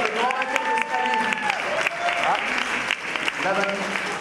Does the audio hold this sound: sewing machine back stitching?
no